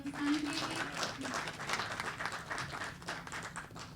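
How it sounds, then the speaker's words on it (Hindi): Audience applause at a Hindi-Urdu poetry evening, a dense sustained patter of clapping filling the hall with some voices mixed in, steady and moderately loud throughout. "एक बार जोरदार तालियां"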